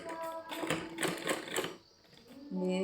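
Sewing machine stitching a petticoat, a short burst of rapid rhythmic mechanical clatter that pauses briefly before a tonal hum resumes, close and moderately quiet.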